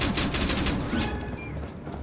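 Rapid bursts of energy-weapon gunfire crackle in a Star Trek action game, close and loud, with sweeping zaps and impacts overlapping in a dense fusillade.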